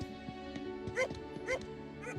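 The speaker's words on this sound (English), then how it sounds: "where have you been, you bad doggy?" A dog in NTE: Neverness To Everness gives a few quick, fairly faint yips and barks, two sharper ones standing out amid soft background game sound.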